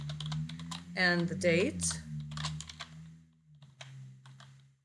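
Computer keys tap in quick irregular bursts as a citation is typed, soft clicks running under and between a person's speaking voice.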